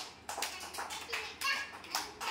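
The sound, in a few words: children clapping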